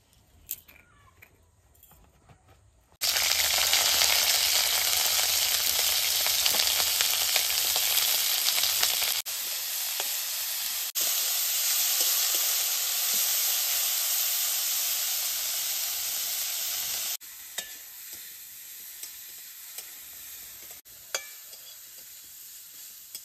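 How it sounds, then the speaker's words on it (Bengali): Cauliflower and carrot frying in white oil in a wok, a loud steady sizzle that starts abruptly after a quiet moment, then drops somewhat in level and continues with faint stirring clicks, no talking. "কড়াই বসিয়ে দিয়েছি, ফুলকপি আর গাজর সাদা তেল দিয়ে ভেজে নেব।"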